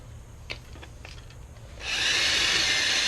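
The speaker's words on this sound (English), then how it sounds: "We're going to go ahead and take our drill to these 2, which are exposed already, and get them out." A power drill bores out rivets on a 1995 Chevy Silverado window motor; a few light taps, then a loud, steady whirring grind starts partway through and holds close up.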